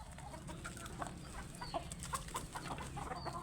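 Chickens clucking as they are let out of their coop at a rural haveli, repeated short clucks from several birds at a moderate distance over steady background noise, with no speech.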